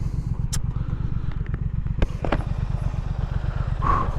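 A 2017 Triumph Thruxton R motorcycle engine runs close by at a steady idle, a rapid even pulsing throb with a few small clicks and clatters over it.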